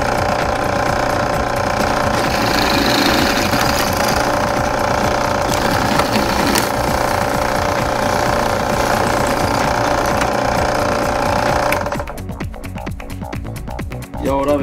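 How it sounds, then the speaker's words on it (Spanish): A larger bit drills through a homemade metal shooting target, a steady loud grinding drone that runs about twelve seconds, then stops and leaves softer clattering and handling noises. "Vamos a pasarle ahora la broca más grande."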